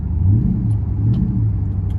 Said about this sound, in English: you can definitely hear that exhaust